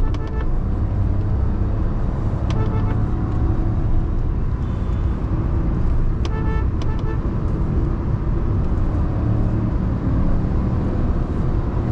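Steady engine and road roar from a 2025 Hyundai i20 N Line manual under acceleration toward 130 km/h, heard from inside the cabin, continuous and loud with a few faint clicks.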